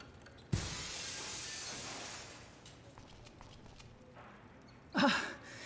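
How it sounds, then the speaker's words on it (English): Glass shatters in the adventure game Dead Synchronicity: Tomorrow Comes Today: a sharp, loud crash that trails into a long, fading hiss of debris, followed a few seconds later by a second short, bright burst. "let's cross our fingers that the seat cover absorbs the noise of the breaking glass"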